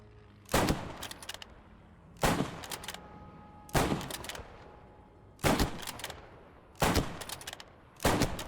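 Six loud, sharply separated rifle bursts of gunfire from the World War II shooter game Squad 44, spaced roughly every one and a half seconds during shooting practice, each crack trailing off into a brief echo.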